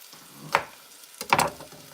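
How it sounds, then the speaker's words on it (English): Bell peppers sautéing with salt in a hot pan for a Philadelphia cheesesteak, sizzling at a low level with two sharper bursts of crackle as they are stirred or tossed. "We're gonna saute these peppers."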